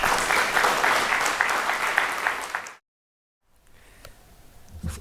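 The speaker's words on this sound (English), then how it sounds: "Ladies and gentlemen, please applaud Professor Kronman." An audience at a college lecture in Abu Dhabi applauds a professor being introduced, with dense, lively clapping for nearly three seconds that stops abruptly, followed by quiet room noise and faint scattered sounds.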